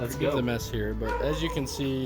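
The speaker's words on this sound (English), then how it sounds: "sorry about the dog too" A dog barks and yips in the background of an outdoor garden while someone talks over it about a hose adapter and an irrigation line.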